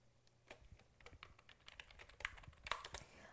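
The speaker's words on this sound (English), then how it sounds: "I'm going to type this in." Fingers tap on a computer keyboard, a quiet, close run of irregular clicking keystrokes that grows slightly busier toward the end.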